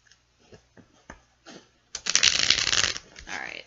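A few soft taps and clicks of handled tarot cards lead into a crisp, quick riffle shuffle lasting about a second.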